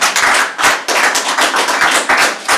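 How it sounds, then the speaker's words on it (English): At a planning commission meeting, a crowd applauds loudly, dense overlapping hand claps sustained the whole time with slight swells. "Please refrain from applause so that the next speaker can hear their numbers."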